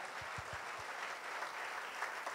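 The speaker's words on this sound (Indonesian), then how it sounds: "Berikan tepuk tangan yang lebih baik bagi Yesus kita." A church congregation claps together during worship, a steady, dense patter of many hands that sounds fairly distant and soft and continues for the whole stretch with no voices standing out.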